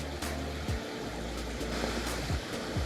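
River water rushing and churning around legs of someone standing in an Icelandic river near Svartifoss waterfall, a steady close broadband wash with occasional swishes and splashes, no talking.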